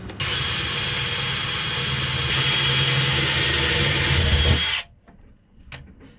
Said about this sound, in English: We're gonna go inside the engine room, just drill exactly the same hole.